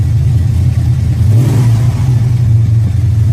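Close and loud, the 440 V8 in a 1978 Dodge Macho truck rumbles at a deep, lumpy idle, with one brief rev swelling and falling back midway.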